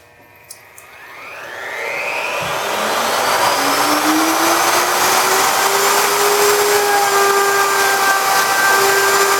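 A power tool, likely a router, spins up and runs steadily to round over the top and bottom edges of a flattened wooden swing seat, a loud continuous whine with a rising tone that holds on, no talk over it.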